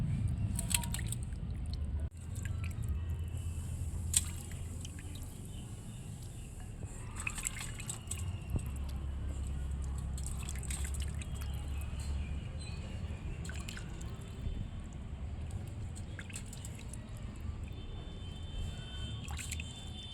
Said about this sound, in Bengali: চিকেনটা আমি পরিষ্কার করে ধুয়ে নিয়েছি